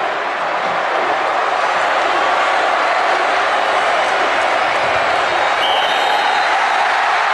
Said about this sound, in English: And this crowd will erupt.